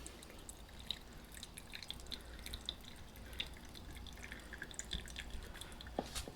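Brewed coffee dripping through a pour-over filter into a carafe at an off-grid setup, a soft irregular patter of small drips under a steady quiet background hiss, no talking.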